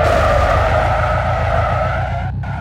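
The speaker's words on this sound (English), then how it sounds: "they must have just got like a ripped sound effect for like tire squeals" Sustained tire squeal from a quad bike in a video game, a loud continuous skidding screech with engine-like drone beneath, steady throughout with a brief dropout near the end; no talking.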